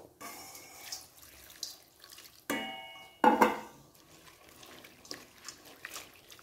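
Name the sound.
washing anchovies in water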